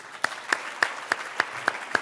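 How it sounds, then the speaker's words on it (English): Applause at a high school athletic awards ceremony, heard as seven crisp, evenly spaced claps in a steady beat, close and fairly loud. "Let's give a round of applause for all of our fall state tournament qualifying teams"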